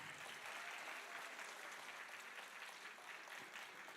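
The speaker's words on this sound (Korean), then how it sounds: "다시 한번 우리 후보자 여러분께 뜨거운 박수 한번 부탁드리겠습니다" Audience of delegates and party members at a Democratic Party provincial convention applauding the candidates, a steady dense clapping throughout, faint and distant.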